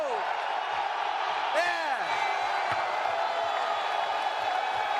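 A press conference crowd cheers and whoops loudly, a dense roar of voices with a rising whoop and shouts carrying through the room.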